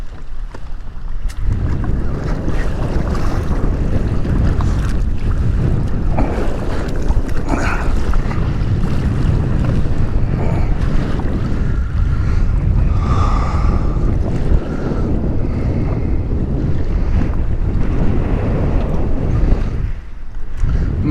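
Strong wind buffets a fishing ski anchored near oil rigs off Port O'Connor, Texas, as waves slap and wash against the hull, a loud continuous roar close to the microphone.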